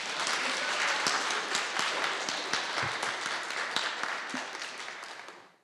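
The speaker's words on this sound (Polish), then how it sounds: "Poprosimy o oklaski." Dense audience applause fills a podcast recording session, a steady wash of many hands clapping that holds strong for several seconds before tapering off at the end.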